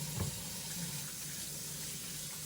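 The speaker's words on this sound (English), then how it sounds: "then we're going to go ahead and wash our hands" Tap water runs steadily into a sink while hands are washed, a constant soft rushing stream with no talk.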